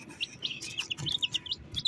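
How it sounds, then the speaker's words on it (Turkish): A baby chick chirps repeatedly in quick, high, thin peeps at close range, an irregular run of short calls over faint background noise. "Benim civciv şu."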